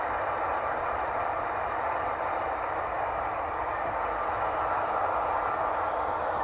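Amtrak passenger train rolling past with a P42 locomotive heritage unit at the rear, a steady dense rumble and wheel roar holding at constant loudness throughout, no talking.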